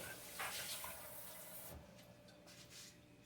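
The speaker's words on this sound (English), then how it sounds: "Now I'm going to rinse my big measuring bowl out." Tap water runs into and rinses a big measuring bowl in a home kitchen, a steady hiss with brief louder splashes early on that drops to a quieter trickle after about two seconds, with no talking.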